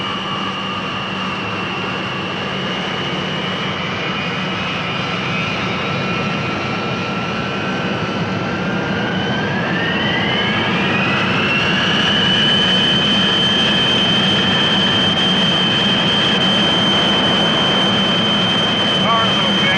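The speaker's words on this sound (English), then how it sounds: "you're clear for takeoff. And this will be a rolling start with noise abatement." Jet aircraft engines spool up for a rolling takeoff with noise abatement, a loud steady roar with a rising whine that climbs in pitch midway and holds, continuous throughout.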